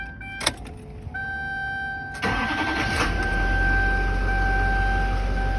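An LBZ Duramax diesel pickup truck is keyed on with chimes and a whine, then the engine cranks and fires, settling into a loud, steady low idle close by.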